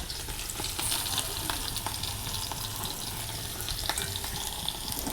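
Prawns hit hot oil in a pan that already holds fried okra, giving a continuous close sizzle with scattered crackles and pops throughout.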